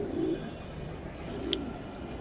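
Racing pigeons coo softly in a loft, a couple of low throaty coos rising out of quiet background noise, with a brief higher chirp near the end.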